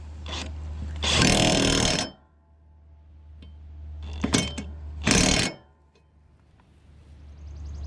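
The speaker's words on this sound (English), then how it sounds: "now we can tighten this up all the way. Definitely a lot easier with an impact" An impact wrench tightens a blade bolt on a Kubota Land Pride FDR 1660 mower in two loud, rattling bursts of about a second each, with quiet gaps between them over a constant low hum.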